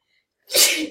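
A single sudden sneeze, close and fairly loud, after a brief silence.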